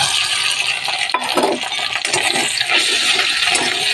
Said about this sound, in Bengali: আদা রসুনটা একটু তেলের মধ্যে দিলাম, ভেজে নেব